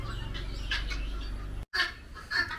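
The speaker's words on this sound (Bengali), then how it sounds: "ফিমেল তিতিরটা এরকম করে ডাকতে পারে।" A female grey francolin gives a few soft clucking calls at a low level, with a brief silent break partway through.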